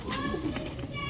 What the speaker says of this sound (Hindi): ਬਹੁਤ ਜ਼ਿਆਦਾ ਕਬੂਤਰ